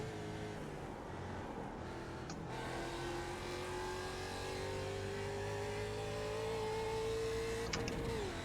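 A Mustang production race car engine in the iRacing sim at Bathurst, a steady droning note that climbs slowly as the car accelerates, with a brief gear-change dip early on and another shift near the end, no talk.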